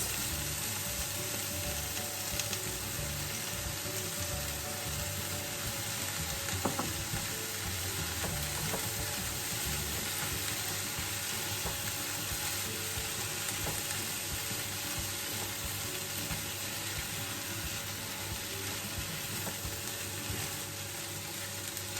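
Spinach and coriander stir-frying in a pan, a broad, even sizzle carrying on for a long stretch with occasional faint clicks and scrapes of a utensil, moderately close and without speech.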